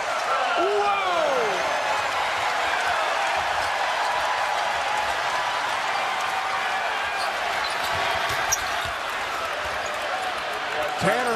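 A college basketball arena crowd roars after a Western Kentucky Hilltoppers slam dunk against Saint Mary's, a loud, sustained wash of cheering with court thumps and a commentator's voice over the top.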